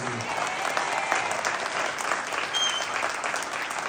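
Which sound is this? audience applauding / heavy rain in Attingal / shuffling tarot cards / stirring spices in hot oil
audience applauding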